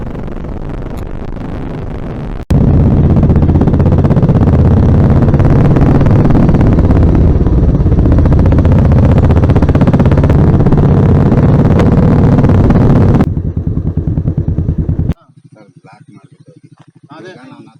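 Motorcycle riding on a road toward Makalidurga near Doddaballapur, heard as a loud, steady roar of engine and wind rush that holds for several seconds, then drops away to quieter background near the end.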